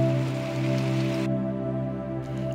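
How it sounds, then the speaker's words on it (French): Steady rain falling during a stretch of rainy days on Tenerife, a dense continuous hiss with no voices. "Et tous ces jours de pluie,"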